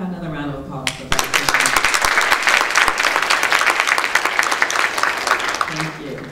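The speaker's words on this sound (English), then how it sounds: "How about another round of applause for Beth?" A university audience at a domestic violence awareness event breaks into steady, full applause after a brief moment of talk, then sustains dense clapping for several seconds before fading.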